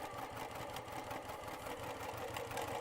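Sewing machine stitching along a marked line on quilt fabric, a continuous fast mechanical hum and chatter, faint and steady with no talk.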